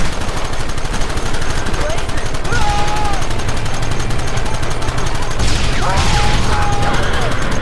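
Rapid, continuous gunfire fills a Red Dead Redemption video game shootout, close and loud, with overlapping shots, brief whistling ricochets and a few shouted voices under the volleys.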